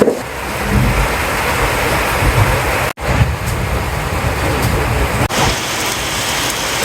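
Steady rain falls outdoors in a rural Bangladeshi village, a dense continuous hiss that stays loud and close throughout with no voices heard.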